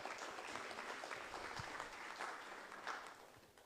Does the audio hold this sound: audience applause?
yes